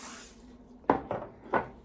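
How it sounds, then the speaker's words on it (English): Olive oil cooking spray hisses into a 4-inch ramekin in three short close bursts, each a brief airy spritz, after a faint background hiss. "I'm going to lightly spray it with cooking spray, olive oil"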